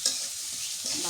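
Onion and chili frying in oil for fish curry, a brief close hiss of steady sizzling with a faint stir, no talking.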